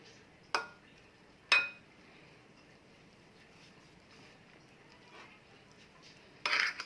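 A spoon clinks against a bowl while club sandwich filling is stirred with mustard paste: two sharp clinks, a quiet stretch of soft scraping, then a brief flurry of clatter at the end.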